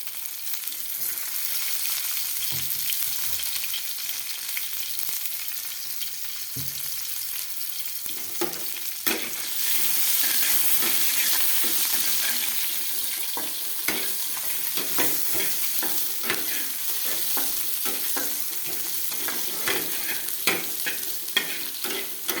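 Onion and garlic frying in a pan for pasta: a steady, loud broadband sizzle throughout, with scattered sharp clicks and scrapes from stirring, and a brief surge in intensity partway through.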